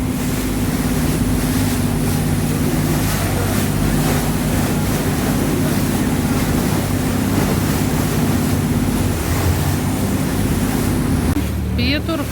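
Motorboat on a river in Bangkok pounding through choppy waves, with a steady engine drone, rushing water and wind buffeting the microphone throughout, loud and close, with someone speaking over it.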